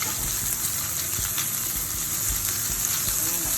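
Meat and shrimp sizzle loudly and continuously while being stir-fried in a pan for a Filipino canned-jackfruit dish, with faint scraping of stirring through the steady hiss and no talk.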